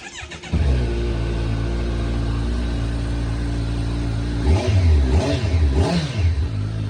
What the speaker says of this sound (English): switch the bike on, see what you think